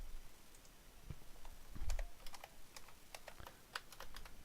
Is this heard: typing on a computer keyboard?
yes